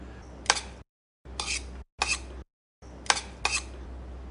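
Short bursts of a utensil scraping and clinking against a bowl as cabbage roll filling is mixed with sesame oil, several quick strokes separated by brief silences, close and fairly loud.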